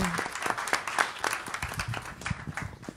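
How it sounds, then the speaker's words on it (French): Audience applause at a French event on men's commitment to gender equality, a steady wash of many hands clapping at moderate level throughout. "Vous pouvez l'applaudir."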